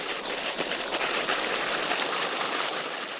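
Water rushes steadily through an opened sluice gate into a winter rice paddy, a continuous close splashing hiss that holds even for the whole stretch.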